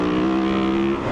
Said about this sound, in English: You can definitely hear a different note of the bike